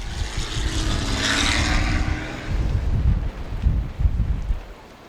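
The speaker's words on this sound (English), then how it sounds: "You can hear the difference between their engines and what power levels are keeping them afloat." Light STOL aircraft flying during Pony Express STOL practice, a broad engine drone that swells and fades overhead, with low rumbling gusts and uneven surges in level.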